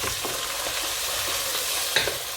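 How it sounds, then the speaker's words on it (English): Mixed vegetables stir-frying in a pot with onions and ginger garlic paste for noodles, a steady close sizzle with a few sharp stirring scrapes, no voices. "Veg is frying."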